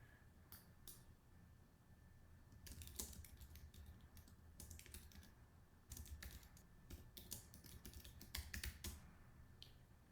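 Quiet, close computer keyboard typing comes in short bursts of rapid key clicks separated by pauses, with no talk.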